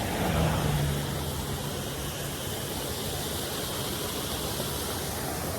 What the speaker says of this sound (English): Oh my God, look at this. Waterfalls.